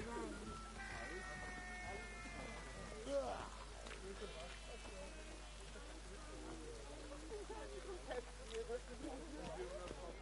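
Steady rain falls in The Witcher 3: Wild Hunt, a constant hiss under the whole stretch, with game voices and other in-game sounds over it.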